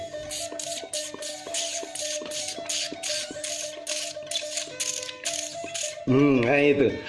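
A voice imitates a mouse by drawing the lips in with the tongue, making a rapid series of sharp, clicky squeaks in a steady rhythm, followed by a brief wavering high-pitched squeal at the end.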